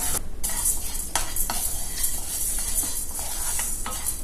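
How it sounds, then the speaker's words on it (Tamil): Half a cup of toor dal dry-roasts toward golden brown in a pan, with a continuous close rattling hiss of lentils and repeated scraping strokes of a spoon against the metal. "இப்போ இந்த ஹாஃப் கப் துவரம் பருப்பை நல்லா கோல்டன் ப்ரௌனாக வறுத்துக்கலாம்."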